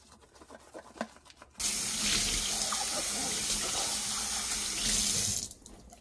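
A few squeaky scrapes of a sponge scrubbing dishes are heard at first, then a faucet gushes loudly into a kitchen sink for several seconds before shutting off.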